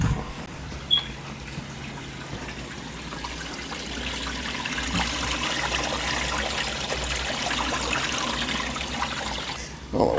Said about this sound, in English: Open up this valve and we can purge it.